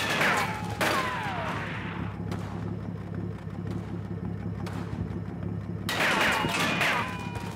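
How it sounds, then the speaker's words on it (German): Machine-gun fire and shell impacts ring out in a WWII Normandy battle in the Combat Mission video game, heavy bursts opening and closing a stretch of rumbling combat with distant crackling shots. "das MG-Feuer nicht so sehr, aber wenn dann doch schon mal Einschläge von einer Kanone, von einer Granate kommen"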